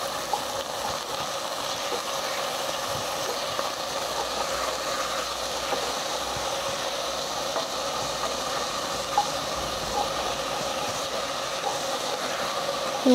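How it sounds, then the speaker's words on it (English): Pork sears in a hot pan with ginger, a steady, even sizzle hissing continuously at moderate loudness, with occasional faint pops and no voices over it. "Just gonna let it sear before moving it around too much"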